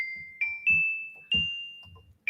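Electronic keyboard tinkle bell voice plays a short run of bright, ringing notes with sustained tones, each strike followed by soft lower thumps, fairly quiet and with no talking.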